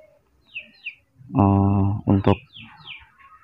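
A sooty-headed bulbul (trucukan) chirps in bright, close bursts: a few short calls, then a loud warbling phrase and more chirps, with a brief voice mixed in.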